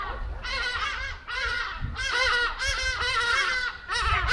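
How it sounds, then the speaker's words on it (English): Birds call overhead in a steady run of loud, harmonic honking cries, several overlapping calls repeating every half second or so with only brief gaps, and nobody speaking. "Birds in the sky."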